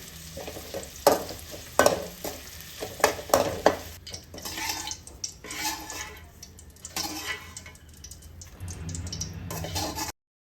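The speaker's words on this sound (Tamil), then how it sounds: "தோலை நீக்காத அப்படியே நசுக்கி வச்சுருக்கோம் இதை வறுத்துக்கலாம்" Crushed unpeeled garlic fries in hot oil with a steady sizzle, broken by repeated scraping and stirring clatters of a utensil against the pan, close and fairly loud, with no talking.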